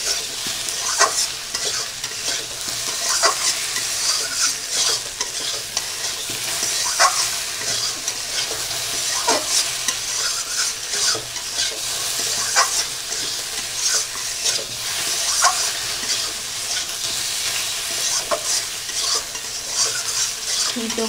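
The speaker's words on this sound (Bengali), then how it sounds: "এবার আমি নাড়িয়ে চাড়িয়ে নেব। গাঠিগুলো একটু 1 মিনিট 2 মিনিট একটু ভেজে নেব।" Small taro corms fry in oil for a tilapia curry, with a constant loud sizzle and regular scrapes and clinks from a spatula stirring them in the pan. No one speaks.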